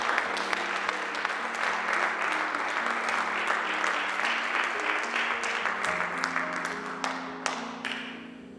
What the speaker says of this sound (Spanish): Den un aplauso al Señor en esta noche.